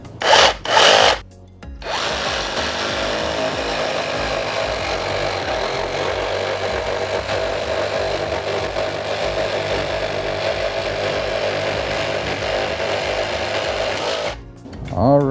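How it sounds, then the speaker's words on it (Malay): A Keelat 6-in-1 multifunction drill runs as a reciprocating saw at high speed, cutting steadily with a continuous buzzing rasp for about twelve seconds after a couple of short starts, then stopping. "untuk test ni kita akan try reciprocating saw ni pada high speed."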